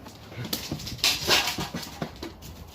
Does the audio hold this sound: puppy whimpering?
yes